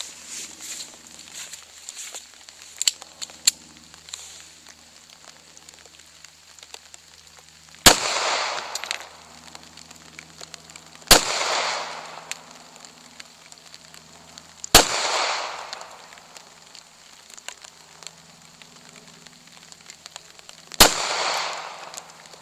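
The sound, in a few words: gunshots from a Ruger LCP .380 pistol at cans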